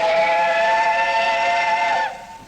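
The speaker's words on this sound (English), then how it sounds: "We whistle, the chime whistle," A loud, sustained steam locomotive chime whistle sounding one long blast of several blended tones, then cutting off abruptly near the end.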